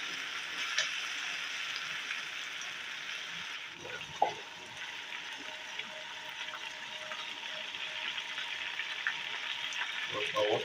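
Whole chicken frying and browning in hot oil in a pan for Lahori chargha, giving a steady, dense sizzle throughout with a few faint clinks and stirring sounds and no talking.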